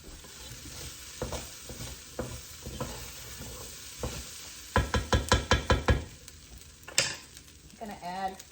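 Potatoes cook in a pan for a sausage soup, with a low sizzle and scattered knocks, then a quick run of sharp rattling clacks near the lid, close and without speech.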